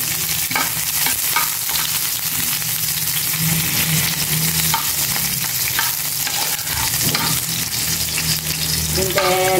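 Onions frying in a pan for a tilapia dish, a steady loud sizzle throughout with occasional stirring scrapes and a few faint clinks near the end.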